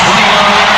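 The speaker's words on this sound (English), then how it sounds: "The Suns hearing it from the crowd." Basketball arena crowd at an NBA Finals game, Bulls versus Suns in 1993, a loud, dense roar of voices with whoops, very brief and sustained throughout.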